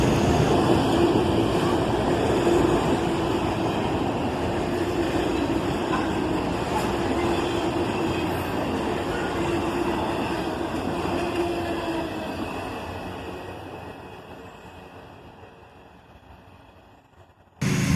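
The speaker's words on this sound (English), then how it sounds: "And now we're into a cut of autoracks." A freight train hauling autorack cars rolls past with a loud, continuous rumble and clatter of wheels that slowly fades toward the end as the cars move away.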